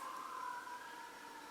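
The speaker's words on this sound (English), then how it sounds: "Fire truck and the ambulance." Fire truck and ambulance sirens wail at a distance in a faint, steady, drawn-out tone that sweeps slowly, heard alone with no talking.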